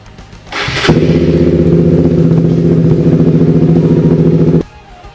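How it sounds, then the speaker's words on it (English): A Honda CBR motorcycle engine cranks, catches, and idles for about four seconds with a loud, close, rapid pulsing throb, then cuts off abruptly. "a cool big black motorcycle, and it is a CBR"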